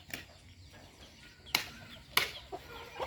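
Chickens in a family farm's livestock pen give a few faint, sharp clucks and squawks spread across a quiet, low background.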